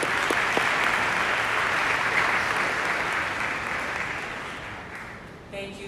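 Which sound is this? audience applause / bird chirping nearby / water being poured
audience applause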